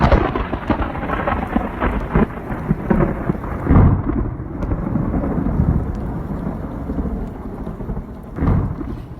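A heavy thunderstorm over coastal Saudi Arabia brings a dense, loud roar of pouring rain, punctuated by rumbling thunder swells, and no voices.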